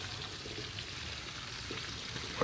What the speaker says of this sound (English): We're frying. Look at that fat, yo.